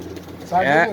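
A pigeon in a loft gives a short, loud, close coo in the second half, with steady background noise before it.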